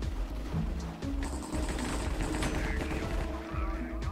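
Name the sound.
gunshots in Minecraft video game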